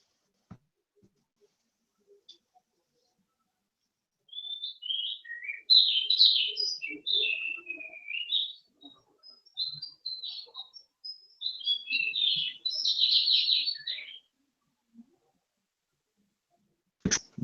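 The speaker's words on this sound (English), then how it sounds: "No, those are actual real birds, ray of sunshine. They're noisy fuckers, aren't they?" Real birds chirp and twitter loudly in bursts of high, busy song, two long clusters of calls separated by a short pause over an otherwise quiet background.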